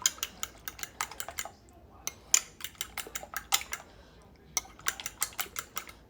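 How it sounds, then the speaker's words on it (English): Eggs whisked in a bowl make a quick, uneven run of light clinking taps, fairly close and faint, with a short pause midway before the rhythm resumes. "I'm just going to whisk them until they become completely stirred up together"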